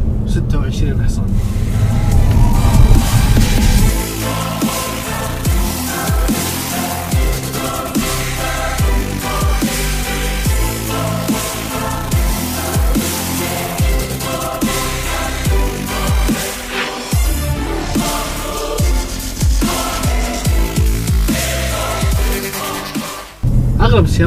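A Bentley GT Speed with 626 horsepower, driven with the gearbox in Tiptronic mode: its engine drones loudly and continuously from inside the cabin, the pitch rising and shifting through gear changes.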